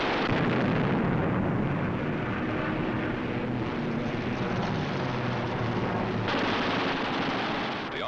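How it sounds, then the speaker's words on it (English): Eight machine guns on a World War II U.S. Army Air Forces fighter plane fire together in a loud, continuous, roaring burst that runs unbroken throughout, with no talk. "With the touch of the finger on the stick, a camera and 8 machine guns are put into action."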